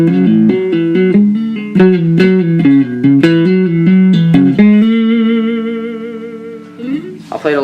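An electric guitar plays the riff of a worship song up close, with quick hammer-ons and pull-offs. A busy string of plucked notes gives way to a long ringing sustained note and a brief final scrape.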